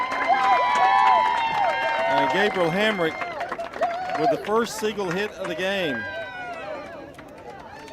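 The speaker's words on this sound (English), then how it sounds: "The crowd's pretty ecstatic here." Crowd at a high school baseball game between Siegel and Farragut, cheering and clapping from the stands under a commentator's excited play-by-play. The voices rise and fall in loud bursts, with whoops layered through the crowd noise.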